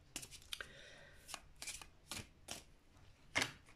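A deck of cards being shuffled and a couple of cards drawn, a series of crisp riffling bursts and flicks, close and fairly quiet, with no talking.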